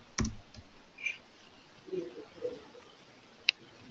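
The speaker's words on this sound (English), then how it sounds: "the keyboard's coming through quite loud" Computer keyboard typing picked up by a microphone during an online meeting: sparse, faint clicks and taps scattered over a few seconds, with one sharper click near the end and a quiet low background.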